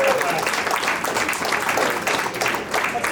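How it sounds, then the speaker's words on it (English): Steady applause from a crowd at a Cub Scout Arrow of Light ceremony, dense and continuous clapping throughout with no breaks, fairly loud and close. "give one more big round of applause for all 7 of our new Scouts BSA Scouts"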